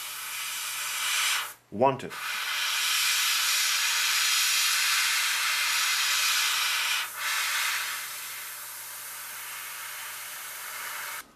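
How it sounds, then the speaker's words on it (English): Semi-dark gray base coat paint is sprayed onto a Millennium Falcon scale model, producing a long, steady airbrush hiss that pauses briefly twice; a single spoken word comes in during the first pause. "All the recesses have been sprayed with a base coat."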